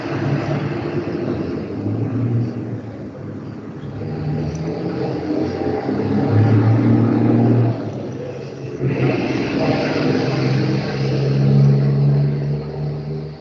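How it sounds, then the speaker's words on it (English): A passing car rumbles by, picked up through a computer microphone, with a steady low engine drone that swells and fades over several seconds and no voices. "there was a car driving by and I could really hear it through the computer"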